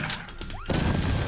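An explosion in the video game Postal 2 bursts out partway through with a sudden crash, followed by loud, sustained rumbling noise.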